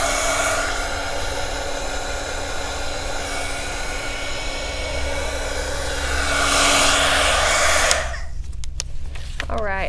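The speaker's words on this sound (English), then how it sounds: "a little bit of the heat gun to it" A heat gun blowing onto resin on a geode plaque, a loud steady whooshing roar of hot air lasting about eight seconds before cutting off, followed by faint handling noises.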